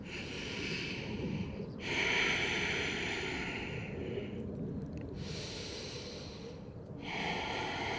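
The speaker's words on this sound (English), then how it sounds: "deep breaths." Slow, deep breathing during a yoga child's resting pose, quiet and close. Soft airy inhales and exhales rise and fall over several breaths, with no speech.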